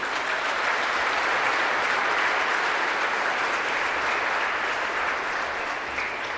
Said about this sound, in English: giving your parents and families who are gathered here today a big round of applause